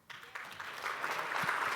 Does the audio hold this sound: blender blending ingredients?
no